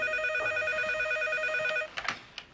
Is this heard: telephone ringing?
yes